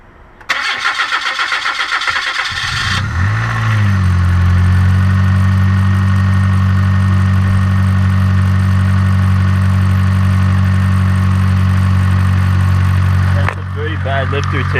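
A Ford Festiva with a swapped-in 1.6-litre single overhead cam B6 engine cranks with rapid starter chatter for a few seconds, catches, then settles into a loud, steady, close idle before cutting off near the end.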